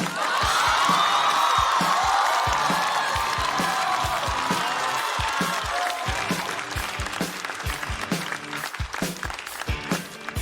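Big audience applause greets a stand-up comedian walking onstage at a Chinese comedy show, dense sustained clapping mixed with cheers and whoops, easing slightly toward the end.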